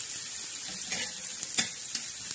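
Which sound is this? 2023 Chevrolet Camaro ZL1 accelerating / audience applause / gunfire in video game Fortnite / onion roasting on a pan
onion roasting on a pan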